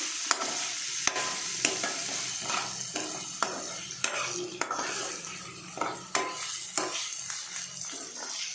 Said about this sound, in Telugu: తరిగి పెట్టుకున్న టమాటా ముక్కను కూడా వేసుకోవాలి